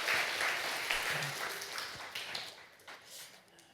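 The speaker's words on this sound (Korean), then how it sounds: "문화상품권 하나 주려고 합니다. 박수 한번 쳐주세요" Applause from a church congregation during a sermon, a dense, moderately loud patter of many hands that slowly tapers off, heard alone.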